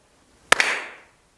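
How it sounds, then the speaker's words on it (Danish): A single sharp hand clap from choir singers clapping in time with their choir leader, landing as one crisp, close smack with a short roomy tail fading over about half a second. "når de er blevet rigtig gode til at klappe samtidig med korlederen"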